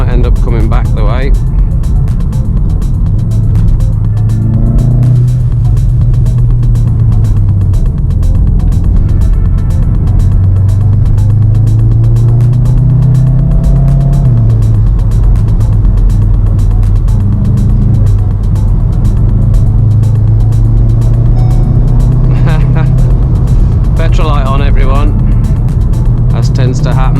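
A VW Mk7.5 Golf R drives along a road, its engine and road noise forming a loud, steady low drone that swells and eases as it goes, with talk from inside the car over it.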